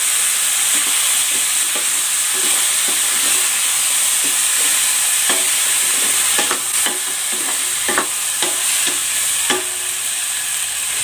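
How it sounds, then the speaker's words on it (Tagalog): Garlic sizzling and frying in a pot for a Filipino garlic chicken soup, with stirring clatter of a utensil against the pot and scattered sharper knocks as the chicken goes back in, a steady hiss throughout. "Gigisa ko na tong bawang. Ibabalik ko na dito yung chicken."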